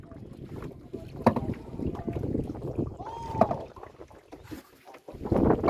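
A boat moving on water during a leisure boat trip, with low lapping and sloshing, gusty wind buffeting the microphone, and faint voices in the background.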